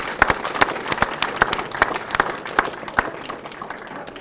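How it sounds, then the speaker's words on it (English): Audience applause for children at a school awards assembly, many hands clapping with distinct sharp individual claps standing out, moderately close, tapering off slightly toward the end. "Let's give these children one more round of applause."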